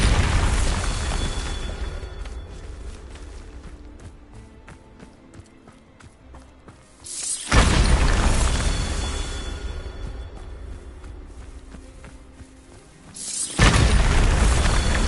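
Two heavy booming blasts of the Bombarda spell in the video game Hogwarts Legacy, each a loud explosion followed by a long rumbling decay, with rubble-like crackle between them.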